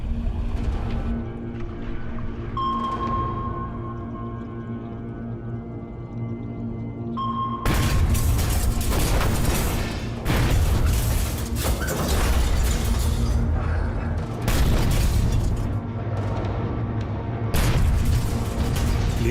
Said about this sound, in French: Le patrouilleur frôle la poupe du Silverside et lâche 8 grenades sous-marines.